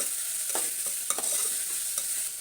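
Onions with a pinch of salt and turmeric are stirred in a hot pan for an aloo chicken masala gravy, a steady close sizzle with several soft spoon scrapes and clicks against the metal.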